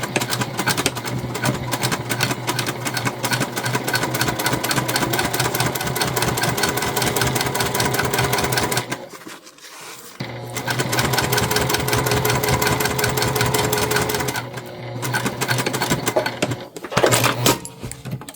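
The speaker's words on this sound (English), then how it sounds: "we're top stitching at 1/8 of an inch" A sewing machine runs top stitching on fabric at an eighth of an inch, its fast mechanical needle chatter steady and continuous, pausing briefly twice before starting up again with a light jangle near the end.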